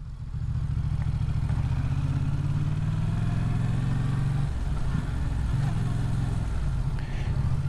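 A 2018 Yamaha MT-07 A2 motorcycle engine runs steadily and loudly at close range, a low droning rumble that shifts pitch slightly as it moves, with no speech.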